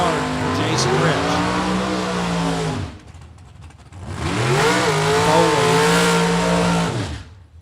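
Drag racing cars launch hard from the start line at a Super Pro event, loud engines roaring and tires squealing in two long bursts split by a short lull, with a track announcer talking over the noise.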